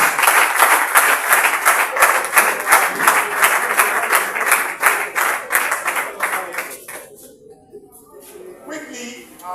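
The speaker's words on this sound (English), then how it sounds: "Give him a better round of applause." Audience at a coaching course breaks into dense, loud applause that runs for about seven seconds before thinning out into scattered claps and fading away.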